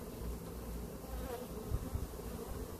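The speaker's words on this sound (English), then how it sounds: "actually see them eating on some of it down here by my finger" Honey bees swarm over a beehive frame during a hive check, giving a dense, steady buzz close up with a few louder passes near the end.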